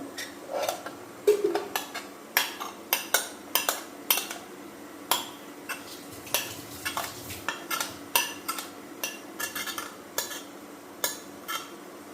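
Fruit salad is stirred in a bowl with a metal utensil, giving steady repeated scraping clinks at close range for about twelve seconds, with no talking.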